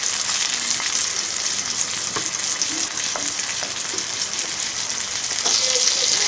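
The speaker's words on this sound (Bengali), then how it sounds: "আমার মাছটা দেখতেই পাচ্ছেন যে প্রায় ভাজা ভাজা হয়ে গেছে।" Pangas fish sizzles steadily in a frying pan, a continuous close hiss of hot oil with a few faint clicks and taps from stirring, and no voices.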